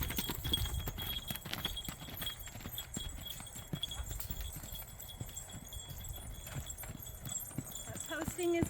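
An Arabian horse trotting, its hooves giving a steady two-beat clip-clop close by, with a rider talking over the rhythm throughout.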